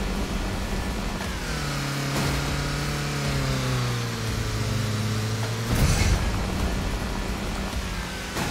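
Boreal B41 car in Roblox Driving Simulator accelerates hard on a track, a rising, gear-stepped engine whine building steadily and loudly, with a brief burst of noise near the end.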